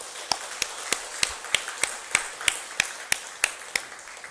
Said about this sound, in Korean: 우리 한번 격려의 박수를 한번 보내십시오.